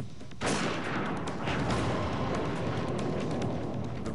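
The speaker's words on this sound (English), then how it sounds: "The Raufoss round blasts through the wall and into the ballistic gelatin." Sniper rifle firing a Raufoss round through a wall into ballistic gelatin: a single sudden loud blast with a broad rumbling roar and echo that stays heavy for several seconds, with no speech.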